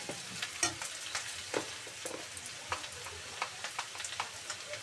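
Coriander, turmeric and chili powder sizzle while frying in a pan, a steady crackling hiss with intermittent stirring clicks and scrapes, close and moderately loud, with no talking.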